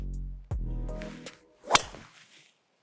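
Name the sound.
golf driver hitting the ball off the tee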